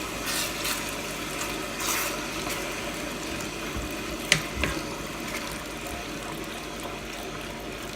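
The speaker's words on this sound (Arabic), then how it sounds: "هلا رح نضيف مرقة اللحمة" Meat broth poured over rice for mandi gives a steady stream of watery splashing and trickling, with a couple of sharp clinks partway through and no voices.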